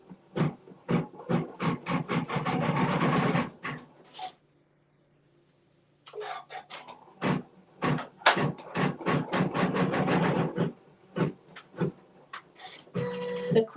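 Sewing machine quilting a long triple run line stitch on a bucket bag: rapid, rhythmic mechanical stitching bursts, loud and close, with a pause of a couple of seconds partway before the stitching resumes.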